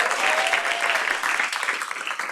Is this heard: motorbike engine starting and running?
no